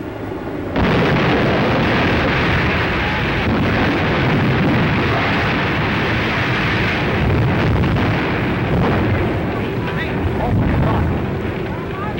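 A loud, continuous roar of the Hindenburg airship exploding and burning rumbles throughout, with a faint voice beneath the din.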